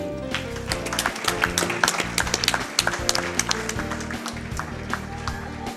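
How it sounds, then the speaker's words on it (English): Audience applause fills a speedrun charity marathon event hall after a Mario Kart: Double Dash!! run, a dense steady wash of clapping with some music-like tones beneath, loud and continuous throughout. "give him another round of applause"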